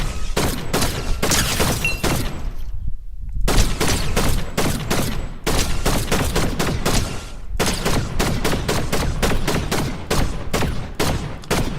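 Rapid bursts of gunfire from assault rifle and shotgun practice in Fortnite crack loudly and densely, nearly nonstop, with one short pause of silence near the start.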